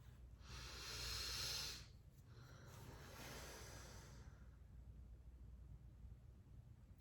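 A slow, deep inhale, breathy and soft, swells for about a second and a half, followed by a gentler exhale that fades into quiet room hiss.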